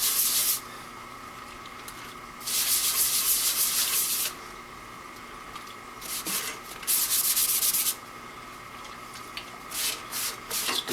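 Shellac mixed with alcohol being wiped onto a live-edge walnut platter with a paper towel, giving bursts of dry, hissy rubbing strokes separated by quieter pauses, close and fairly loud.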